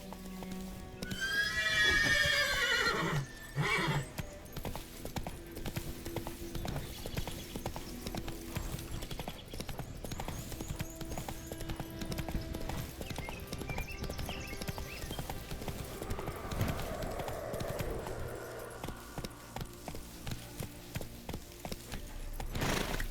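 Roach, the horse in The Witcher 3, whinnies loudly at the start and then gallops, with fast, steady, close hoofbeats continuing to the end.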